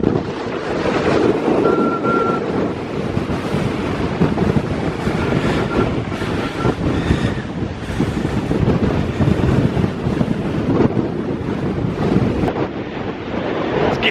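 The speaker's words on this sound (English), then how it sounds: "Those are some serious wind gusts." Strong wind gusts roar on a hiking trail after a fire, a loud continuous buffeting rush hitting the microphone with no speech.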